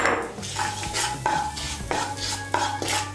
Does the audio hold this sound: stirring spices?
yes